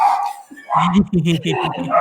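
Two pet dogs bark and yip indoors in quick, close, loud bursts, greeting dogs passing outside, with a voice briefly heard at the start.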